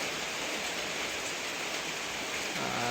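Steady, dense rain falls without a break, an even hiss at moderate level with no voices or other sounds on top.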